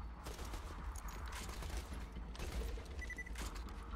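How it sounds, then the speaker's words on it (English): Enemy gunfire in Borderlands 2 rattles in bursts of rapid shots at moderate distance, mixed with game noise and a low rumble, with no talking. "Wait, why are you shooting me now?"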